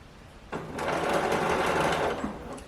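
A sewing machine stitches in the sleeve of a baby garment, starting abruptly and running as a close, steady mechanical whir for about two seconds before stopping.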